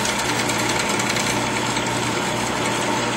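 A JET bandsaw cuts through steel, giving a steady, loud mechanical drone with a constant low hum and dense high-pitched grinding that runs unbroken from start to finish, with no voices.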